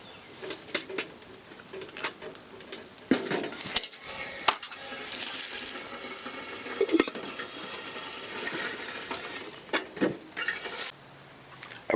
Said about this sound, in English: I'm going to be dicing up my onions, my potatoes, and my parsnips.